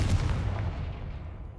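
A Confringo spell explosion in the video game Hogwarts Legacy: a single loud, booming blast that decays over about a second and a half, with no talking.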